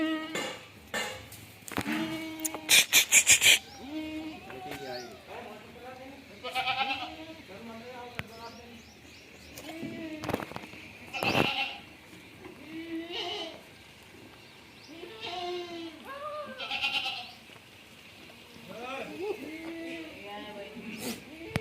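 Goats and young kids of the Sirohi breed bleat repeatedly on a goat farm, with many overlapping calls near and farther off, plus occasional metallic clatter in between.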